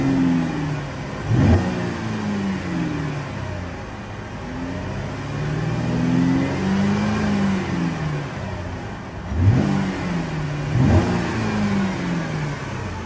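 A Saab 9-4X engine, heard close, revs repeatedly up to its limiter just over 3,000 RPM, with rising and falling engine tone and sharp bumps as it hits the cutoff.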